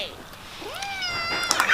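A cat gives a couple of short rising meows nearby, with a faint background murmur.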